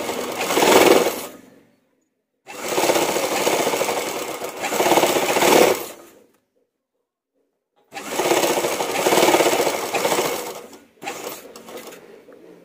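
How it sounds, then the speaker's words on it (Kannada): An electric sewing machine stitches a boat neck blouse in three or four bursts of rapid, steady whirring, close and loud, separated by brief pauses of silence and with no speech. "ಇವಾಗ ನಾನು ಇಲ್ಲಿಂದ ಕೆಳಗಡೆ ಸ್ಟಾರ್ಟಿಂಗಿಂದ ಸ್ಟಿಚ್ ಮಾಡ್ಕೊಂಬರ್ತೀನಿ"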